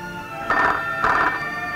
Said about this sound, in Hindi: लगता है मेरा फोन है।